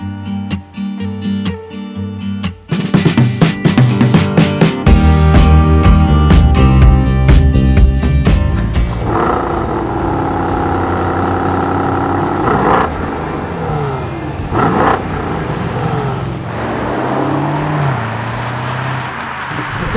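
A 2021 BMW Alpina B5 Biturbo Touring driving: a loud, deep engine surges and roars under acceleration, then settles into a sustained cruising drone with shifts in pitch, heard close with no talking.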